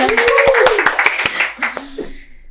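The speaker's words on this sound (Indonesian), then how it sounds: "Tepuk tangan dulu." Scattered hand claps ring out sharply from a small podcast audience, a quick uneven burst close to the microphone, with a voice and some murmuring mixed in before the claps fade out.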